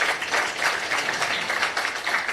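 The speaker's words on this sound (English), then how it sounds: "if we can have a round of applause again for the Professor." An audience applauds a professor at a Chennai Talks lecture event, giving a steady, dense wash of clapping from many hands that fills the short stretch at an even level without pause.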